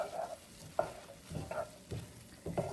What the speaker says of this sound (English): And we're just gonna stir this up.